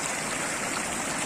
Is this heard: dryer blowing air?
no